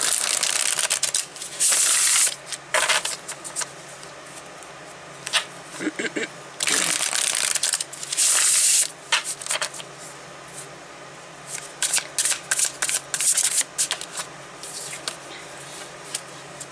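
Tarot cards shuffled by hand in repeated riffling bursts with short pauses between, close and fairly loud, no talking over them.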